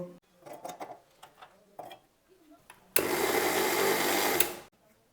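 An electric mixer grinder whirs loudly for about a second and a half as it grinds chopped coconut, a sudden steady roar that stops abruptly, preceded by someone talking quietly and a few kitchen clinks.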